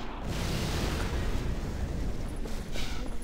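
A dense, continuous rumble of explosions and debris in Half-Life 2: Lost Coast, loud and close, with sharper bursts near the end and no voices.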